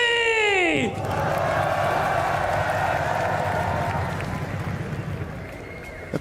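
A large esports crowd at the EWC grand final watch party for NRG versus 100 Thieves claps and cheers in a sustained wash of applause after a rising synth sweep, with voices mixed in throughout.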